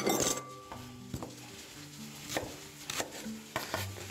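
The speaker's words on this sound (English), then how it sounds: "I'm gonna chop some onion quick, real coarse." Knife strikes against a cutting board while a white onion is chopped coarsely, a few irregular thuds and clinks spaced apart, fairly close, with kitchen clatter and no talk.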